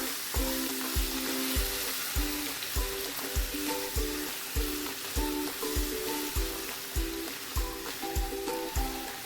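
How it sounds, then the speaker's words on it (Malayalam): Sliced plantain frying in ghee in a pan gives a close, steady sizzle, with regular scraping stirs about once a second throughout. "ഞാനൊരു പാൻ അടുപ്പിൽ വെച്ച് അതിലേക്ക് രണ്ട് സ്പൂൺ നെയ്യ് ഒഴിച്ചിട്ടുണ്ട് ഇനി ഇതിലേക്ക് നമുക്ക് അരിഞ്ഞു വെച്ചിരിക്കുന്ന പഴം ചേർത്ത് കൊടുക്കാം"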